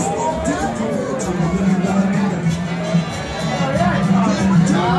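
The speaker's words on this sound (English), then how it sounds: "Good crowd." Crowd chatter at a Friday night party on Venice Beach, Los Angeles: a steady, dense babble of many voices mixing together, with nearby talk standing out above the general hubbub.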